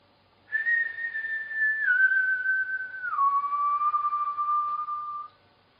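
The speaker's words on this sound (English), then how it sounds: "Now, I whistle with E, A, A positions of the tongue." A person whistles one sustained note that steps down in pitch twice as the tongue shifts through vowel positions, a clear, close, solo tone lasting about five seconds.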